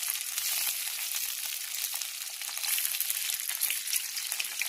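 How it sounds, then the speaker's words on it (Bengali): Pakora batter with chopped onion, ginger and turmeric fries in hot oil, giving a bright, dense, continuous sizzle that stays loud and even throughout. "তো পকোড়া বানিয়ে নিতেছে।"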